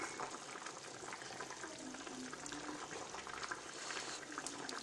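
A pot of curry with meat and radish bubbles at a steady simmer, a soft continuous boiling with small popping bursts, close but quiet, with no talk.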